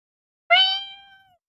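A single short cat meow from the Brain Out puzzle game, clean and close, rising sharply then fading away with no other sound around it.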